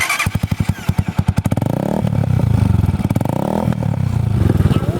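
A cafe racer motorcycle cranks with rapid chugging pulses, catches and settles into a loud, close, lumpy idle with a brief rev, heard outdoors on Siargao Island.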